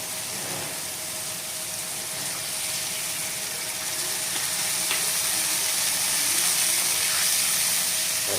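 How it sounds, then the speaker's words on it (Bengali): Water poured into a pan of puti fish sour curry with mango, a steady hissing, bubbling wash that builds slightly louder over several seconds, close and continuous with no talk. "আর এখন দিয়ে নেব পরিমাণ মতো জল"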